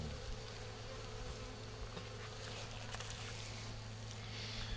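A steady, dense hum of many honeybees buzzing close by at an opened hive, continuous and even throughout with no talking.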